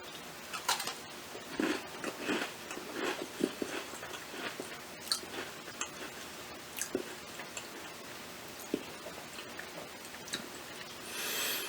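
Biting and chewing an Oreo cookie soaked in Coca-Cola Zero Sugar, close up: soft, irregular crunches and wet mastication clicks repeating across the bite, with short quiet gaps and no talk.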